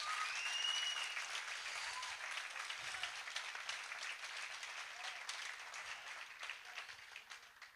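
A church congregation claps to praise God, a broad, even wash of applause that holds steady and gradually fades toward the end, with no speech over it.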